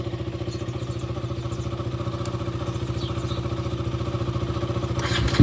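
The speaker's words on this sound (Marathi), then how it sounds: "आपली डूक आहे स्टॉक एक्झॉस्टवाली आणि आता आपण आपली RC स्टार्ट करू." A KTM RC 125 BS6 motorcycle with its engine running at a steady idle, a close, even, rapid thumping pulse that holds throughout and swells slightly at the end.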